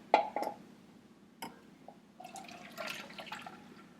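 Water drains from a pot of boiled eggs in a kitchen, a few splashy drips and pours coming in short bursts, with a fuller trickling run toward the end; no one talks during it.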